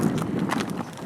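Horse hooves clip-clop steadily on an asphalt road during a trail ride, a close, even patter of footfalls with no talking.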